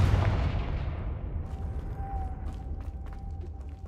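A Confringo spell explodes in Hogwarts Legacy: one loud blast at the start that decays into a long fading rumble, with a faint tone and scattered crackles trailing behind.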